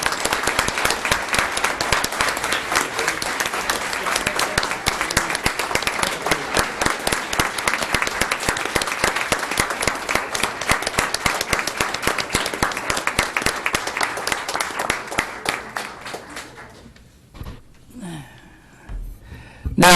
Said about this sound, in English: Please, let's join in a round of applause for all of our 25-year recipients.